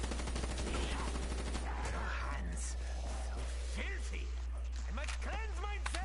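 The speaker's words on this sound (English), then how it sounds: "Keep shooting them in the legs." Rapid gunfire rattles through a PS4 zombie shooter game, with repeated bursts of shots under a player's near, animated talking and game noise over a constant low hum.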